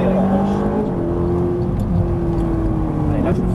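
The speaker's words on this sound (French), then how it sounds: "Allez, on élargit, on va accélérer." A Ferrari 458 Italia accelerates on the Dreux track, its engine a loud, steady close-up drone that holds one gear while someone talks over it.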